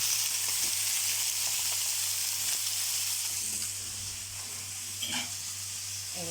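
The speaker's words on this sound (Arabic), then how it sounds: "هسيبها بقى تاخد تشويحه" Chicken sautés in a hot pan, giving a steady close sizzle and hiss with faint stirring scrapes and a brief clink near the end, with no talking.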